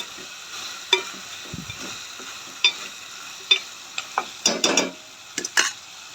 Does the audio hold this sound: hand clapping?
no